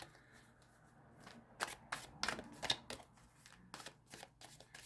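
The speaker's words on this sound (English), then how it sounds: "I did shuffle these cards really good, but I just want to do it again" Crisp riffling bursts of tarot cards being shuffled, several quick flurries close to the mic against a quiet room.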